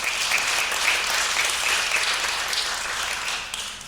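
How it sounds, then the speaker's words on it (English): Big round of applause at a Thurgood Marshall anniversary luncheon: a roomful of people clap steadily in a full, sustained roar that gradually softens toward the close. "Let's give him a big round of applause"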